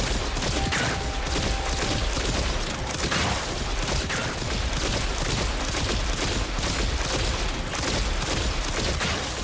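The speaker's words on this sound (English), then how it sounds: "Let me use some guns, too." Gunfire in a gacha video game: a dense, continuous barrage of rapid shots and impacts, loud and unbroken throughout with no voices.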